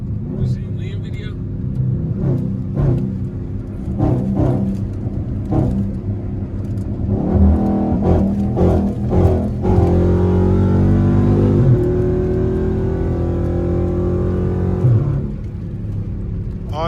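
A car rolls along on worn, wobbly tires, its engine and road rumble droning steadily and swelling midway, while someone talks over the noise almost the whole time.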